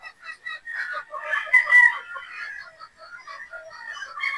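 Boston Roundhead gamefowl in pens, roosters crowing and clucking at close range in a steady overlapping chorus, with one louder crow standing out midway.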